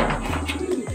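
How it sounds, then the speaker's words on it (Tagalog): Two pigeons coo softly nearby, a few low, rounded calls in quick succession over a quiet background. "may dalawa na tayong ibon mga kalapatids"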